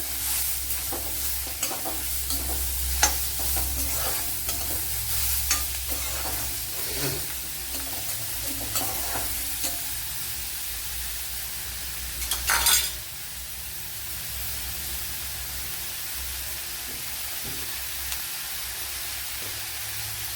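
Onion and tomato sauté in a pan with a steady close sizzle, accompanied by light stirring ticks and one louder scrape partway through, then continue more softly.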